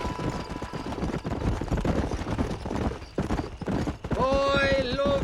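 In the Red Dead Redemption video game, a horse gallops in a rapid, continuous clip-clop of hooves under a rider's shouts, with a brief whinny-like tonal sound near the end.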